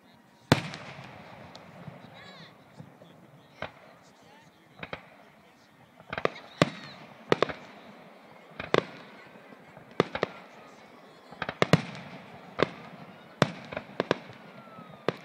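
Fireworks and firecrackers go off outdoors in sharp, irregular bangs and pops, some near and loud, with voices talking quietly in between.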